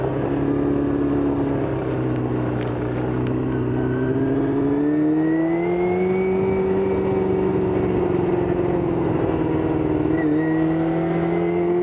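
A Kawasaki ZX-2R (ZXR250) motorcycle cruises in third gear at about 6,000 RPM and 40 mph around Hobart, its engine holding a loud, steady, close drone with only slight pitch drift and no talking.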